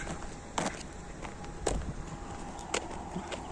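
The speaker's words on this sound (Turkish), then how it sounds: "Şu an düz yolda yürüyoruz." Footsteps on a hard road come at an unhurried pace, a few distinct steps standing out over light outdoor background noise.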